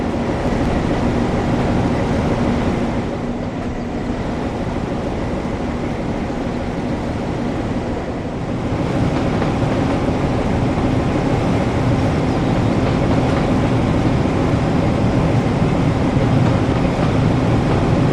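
Class 09 diesel locomotive from the game Train Sim World 3, running on the West Somerset Railway: a steady, heavy engine rumble with rail noise that continues throughout and swells slightly in the later part.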